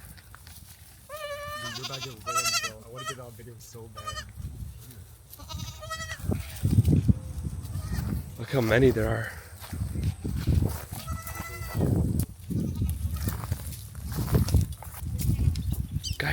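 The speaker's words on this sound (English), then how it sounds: "Guys, there's goats everywhere." A herd of goats fills an abandoned mansion in the Texas woods with repeated overlapping bleats, some close and loud, others further off, while someone speaks briefly.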